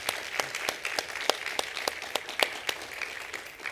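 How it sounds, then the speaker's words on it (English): An audience at a talk event applauds for a guest speaker, a short burst of sharp, irregular hand claps from a modest crowd, close and steady for a few seconds before fading. "Nice round of applause for Tom."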